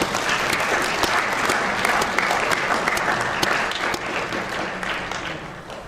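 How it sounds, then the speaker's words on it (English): Audience at a WUSC Botswana event applauding standing volunteers, a full, sustained roar of many hands clapping, loud and even throughout. "just to stand up and be applauded"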